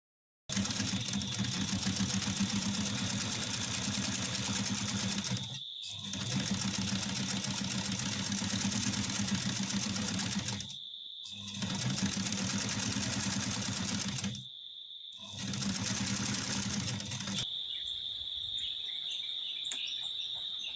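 Sewing machine stitching around cloth coasters, a steady close whirring drone in several long runs separated by brief pauses, with a high whine throughout and no talk.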